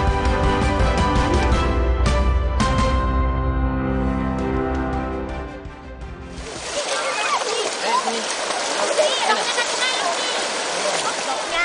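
Swift river current rushing and splashing in a village in Indonesia where students cross daily, a loud continuous broadband roar that takes over after music fades out partway through.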